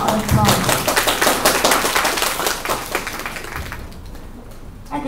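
A crowd claps loudly and continuously, then the applause gradually thins out and fades.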